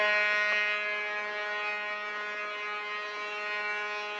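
A ship's horn blows one long, steady, deep blast that holds for several seconds.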